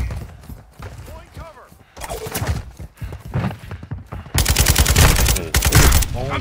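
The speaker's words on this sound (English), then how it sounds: "I'm taking fire!" Gunfire in the video game Call of Duty Modern Warfare 2, rapid bursts of automatic shots growing louder and denser toward the end, mixed with someone talking over the action.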